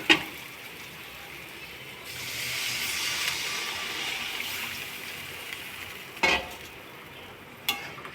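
Water poured into a pan of sizzling soybean and potato curry, a loud steady hiss and sizzle rising and easing, with a couple of sharp clinks of a utensil against the pan.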